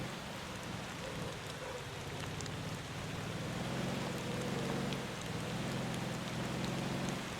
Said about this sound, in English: Oh, goody, rain.